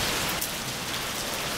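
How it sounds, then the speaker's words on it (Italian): Steady rain pours down on an evening street in Naples, a dense, even hiss of drops striking surfaces with no voices over it. "piove."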